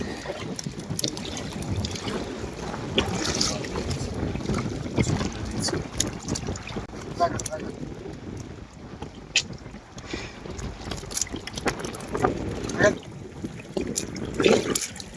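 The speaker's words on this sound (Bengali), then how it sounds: "নদীর অবস্থা পানি আর আকাশে মেঘ আছে আর ঢেউ আছে অনেক বাতাস তো আছে সাথে" Gusty wind buffets the microphone while river waves slap and splash against a fishing boat, a steady rough roar with occasional sharper splashes.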